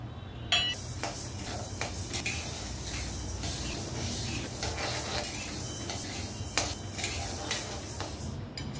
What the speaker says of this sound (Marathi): थोडासा कलर बदलतोय तिचा, थोडा अजून 1-2 मिनिट भाजून घेऊया